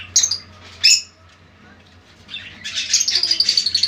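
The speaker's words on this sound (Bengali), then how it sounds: "আর এই যে পাখিগুলো মানে কি বলবো, ডাকটা কিচকিচ করে যে ডাকে, ডাকটা কিন্তু খুব সুন্দর, খুব মিষ্টি ডাক" Small birds give sharp, bright chirps in two quick bursts, then a denser run of rapid twittering toward the end, close by over a quiet background.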